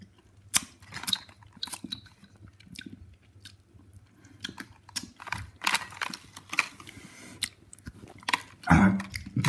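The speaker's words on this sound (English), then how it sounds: "This is a very loud kind of candy." Loud crunchy hard candy is chewed close to the mouth, giving a steady run of sharp crunches and cracks with wet squishing, louder toward the end.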